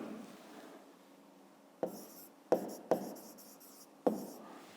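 Pen writing on paper, working out a fifth-grade math exercise: a steady soft scratching rubs along, broken by a few sharp taps near the middle as strokes begin, close and quiet with no voices.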